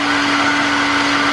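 A high-speed blender processes soaked tigernuts with two cups of boiling water, giving a steady, loud, unbroken motor whir with a constant hum for the whole stretch and no voices.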